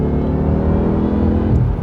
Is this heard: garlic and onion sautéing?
no